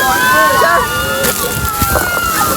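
Water sloshes and splashes loudly nearby on the Kali River Rapids raft ride at Disney's Animal Kingdom, with rushing wash and whistling tones over it.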